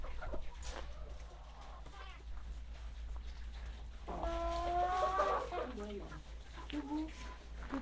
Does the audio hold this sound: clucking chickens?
yes